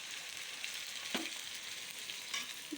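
Spices fry in a pan, stirred and scraped with a spoon, giving a steady soft sizzle broken by a few sharper scrapes and knocks, close and moderately quiet.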